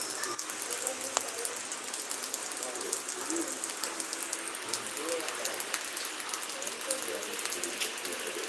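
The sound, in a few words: rain falling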